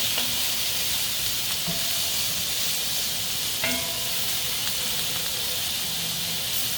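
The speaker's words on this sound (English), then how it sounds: "We're also going to go ahead and toss the other vegetables so they finish evenly cooking." Shrimp fajita vegetables sizzle in a hot pan as they are tossed, a constant loud hissing sizzle with a few faint scrapes and clicks, close up and without talk.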